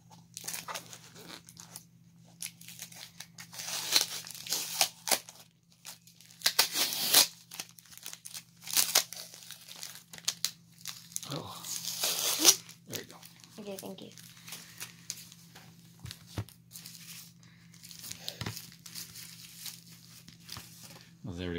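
A taped mail package of baseball collecting items being opened, with bursts of tearing tape and crinkling packaging at close range, interleaved with someone talking and a low steady hum underneath.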